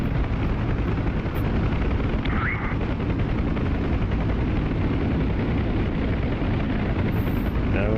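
An aircraft in the DCS flight simulator game flies in to land, a loud, dense, steady rotor-like roar that fills the whole stretch with no clear change.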